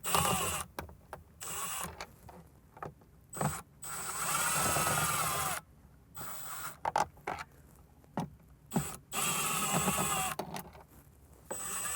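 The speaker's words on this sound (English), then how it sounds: "So let's remove the 4 factory screws." Power drill backing out the four factory speaker grille screws on a Jeep Wrangler TJ, heard as several short, loud whirring bursts of varying length separated by pauses, close up with no speech.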